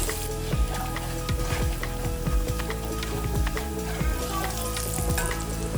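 Red chili powder, turmeric and coriander-cumin spices sizzle and fry steadily in hot oil with sautéed garlic and green chili, with a spoon stirring and scraping through the pan close up, no talking.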